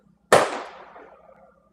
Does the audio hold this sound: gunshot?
yes